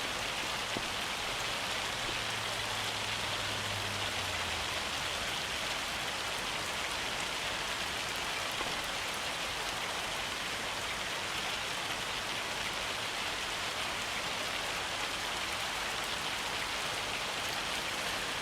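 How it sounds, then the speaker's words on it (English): Hail falls in the video game Farming Simulator 25 as a dense, steady, hissing patter that continues evenly without pause. "Man, this hail sucks."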